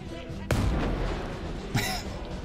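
Gunfire in a first-person shooter video game, two loud booming shots about a second apart, each with a long ringing tail.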